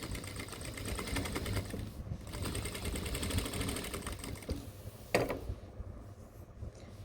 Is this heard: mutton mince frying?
no